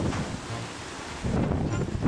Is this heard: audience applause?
no